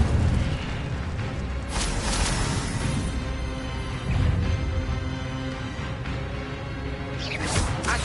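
An Incendio fire spell in a Hogwarts game sends out a steady fiery roar, with louder whooshing blasts flaring up three times over about eight seconds, and no voices.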